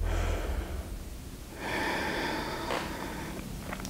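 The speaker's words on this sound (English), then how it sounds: "I want you to breathe in it for 8 more breaths" Steady, deep breathing held through a yoga hip stretch, with a continuous airy rush that swells into a long exhale near the middle, close to the mic and without speech.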